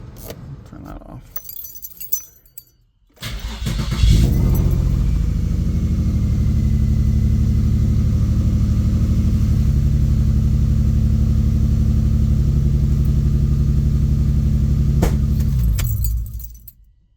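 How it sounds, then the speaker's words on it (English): A Nissan Z with a newly installed Injen cold air intake: keys jangle, then the engine cranks and catches into a loud, steady close idle that runs about twelve seconds before cutting off, with brief talk around it. "we're gonna go ahead and start her up"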